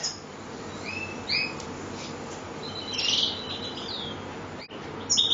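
European goldfinch in a cage giving a few short, thin chirps and twittering calls scattered over steady background noise, fairly faint, with a brighter burst of calls near the end.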